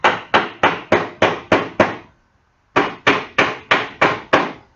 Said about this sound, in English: Use the hammer.